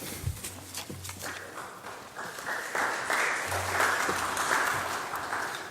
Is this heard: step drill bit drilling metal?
no